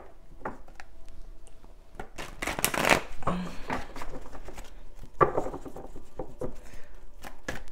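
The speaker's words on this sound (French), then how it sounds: "Je continue de brasser mon jeu, les belles âmes." A deck of oracle cards being shuffled by hand close up, with irregular riffling and patting bursts that build in the middle and then come in looser flurries, with no talking.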